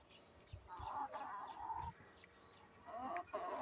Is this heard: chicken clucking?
yes